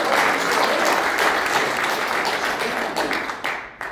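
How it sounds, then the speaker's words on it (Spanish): A church congregation claps steadily in sustained applause, dense and loud, tapering slightly toward the end. "Le puedes dar un aplauso al Señor."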